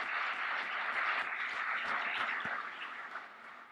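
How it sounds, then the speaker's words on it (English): A steady wash of audience applause at a panel event on Northern Ireland's Good Friday Agreement, many hands clapping evenly at moderate volume before tapering slightly near the end, with no speech over it. "Please join me in a round of applause."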